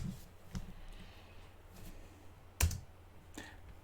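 Keys on a computer keyboard are typed at close range: scattered soft clicks, followed by one sharper, louder press like a spacebar hit, then a few more taps over a quiet background hum.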